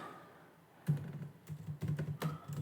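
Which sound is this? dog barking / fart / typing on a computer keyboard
typing on a computer keyboard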